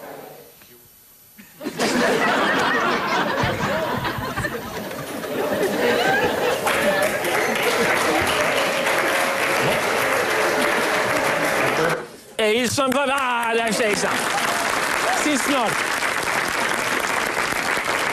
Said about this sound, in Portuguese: Se a gente bater aqui umas palmas ansiosas, em princípio salva-se este momento.